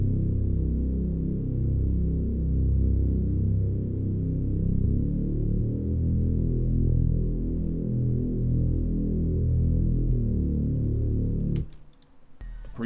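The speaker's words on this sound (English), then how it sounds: "one of them being the bass. Sounds like this, just copying the root notes from the chords." Deep Reese-style synth bass from an Anna 2 preset in a dark melodic trap loop, plain low root notes held for several seconds and changing to follow the chords, dense and throbbing, cut off abruptly near the end.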